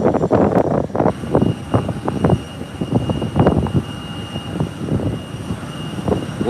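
American Airlines jet airliner taxiing toward the runway for takeoff at Howard Hamilton International Airport, a loud, continuous engine roar with rumbling, uneven surges throughout.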